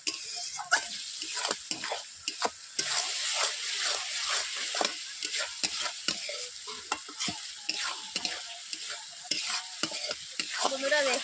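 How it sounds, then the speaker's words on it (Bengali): A spice paste with a little water added is sautéed in a wok for a jackfruit curry. Close, busy stirring and repeated spatula scrapes ring over a continuous sizzle, with no talking. "জল দেওয়ার পর এইভাবে আমি 3 থেকে 4 মিনিট কষিয়ে নিচ্ছি মশলাগুলোকে ভালোভাবে।"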